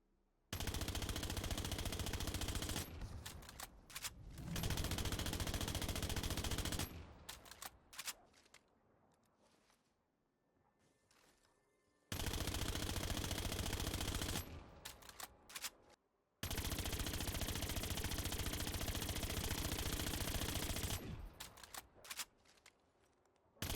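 OTS 9 submachine gun in Call of Duty Cold War Zombies: two long, loud bursts of rapid automatic fire, each followed by a quieter stretch of clicking and clacking reload handling before the firing resumes.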